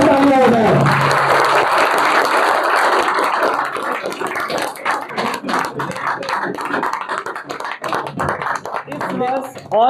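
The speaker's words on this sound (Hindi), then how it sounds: "एक बार जोरदार तालियां हो जाए।" A crowd of students and parents applauds at a celebration of JEE Advanced results at Allen Guwahati. Loud, dense clapping starts full and then thins into scattered, uneven claps, and an amplified voice speaks at the start and end.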